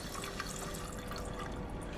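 Steady, faint rush of water running from a tap into a sink, a continuous hiss with light dripping and splashing, heard alone without voices.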